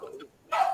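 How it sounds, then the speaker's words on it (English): A dog barks once nearby, a short sharp burst breaking in after a moment of quiet, with a person's voice speaking just beforehand. "dog barking"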